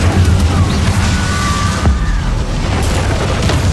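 Confringo blasting spell explosions in the Hogwarts Legacy video game, heavy booming blasts layered over a continuous rumbling battle din, loud and dense for the whole stretch, with no talk.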